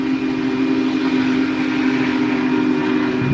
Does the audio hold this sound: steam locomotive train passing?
yes